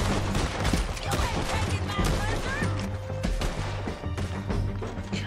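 Gunfire in the video game Red Dead Redemption 2, a dense, continuous shootout of overlapping shots and impacts under a steady low musical drone, loud throughout with no clear pauses.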